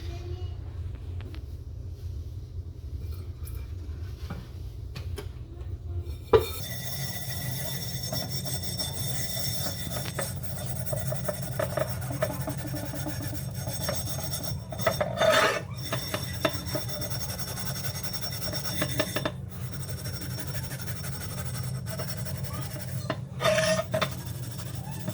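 Rust is scrubbed off a cast iron piece with steady, rough back-and-forth rasping strokes, continuous and close, with a few sharper scrapes and knocks along the way.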